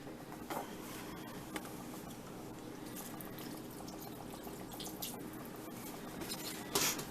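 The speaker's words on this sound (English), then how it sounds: "I am going to add a little bit of broth in mine." Broth is poured into a leftover-turkey pot pie filling as a faint, quiet trickle of liquid with a few soft splashes and drips, heard close with no talking.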